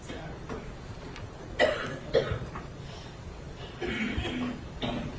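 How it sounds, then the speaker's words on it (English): A person coughs twice in sharp, close bursts, followed by rougher throat noise and a few more muffled coughs. "Oh, I hate when people cough around me."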